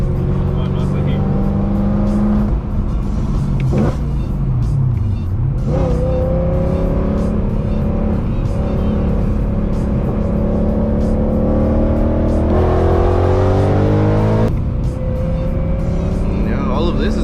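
A BMW E90 M3 engine held in second gear on a canyon drive, rising and falling in steady revs from inside the car, with people talking over it.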